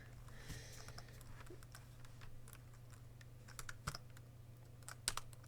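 Soft, irregular keystrokes on a computer keyboard, quiet and close, with a few louder clacks toward the end over a low steady hum.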